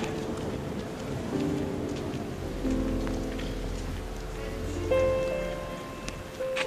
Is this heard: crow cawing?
no